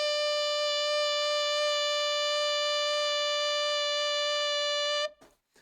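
An alto saxophone holds a single high B, a steady bright note sustained for about five seconds before cutting off, played alone.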